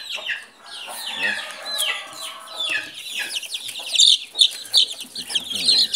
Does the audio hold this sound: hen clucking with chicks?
yes